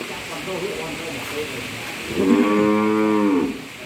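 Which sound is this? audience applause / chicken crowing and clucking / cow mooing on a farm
cow mooing on a farm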